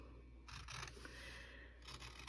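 Scissors cutting the bottom off a journal cover, a few faint close snips and crisp scraping strokes in short bursts over a quiet background.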